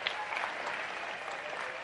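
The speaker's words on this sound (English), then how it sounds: "Clap your hands right here." A church congregation claps together at a sermon, a dense, even wash of applause held steady across the short stretch, moderately distant.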